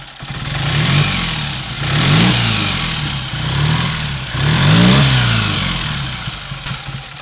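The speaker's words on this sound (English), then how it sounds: "The engine's got to warm up yet." A Triumph 3TA trail motorcycle engine warming up rises and falls through repeated loud revs, swelling and easing back toward a rough idle between throttle blips, close and alone.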